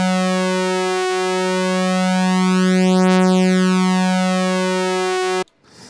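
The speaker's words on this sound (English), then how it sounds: "Oh, not until this oscillator is alongside it. We should get a sort of phasing effect." Two detuned oscillators on a Korg X5D synthesizer hold a bright, buzzy sustained tone, with a slow phasing sweep moving through its harmonics. It stops abruptly near the end, leaving a short noisy tail.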